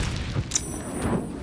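A fireball spell explodes in a fantasy role-playing game, a single booming burst with a quick thud and crackling tail, fairly loud over a low rumbling background.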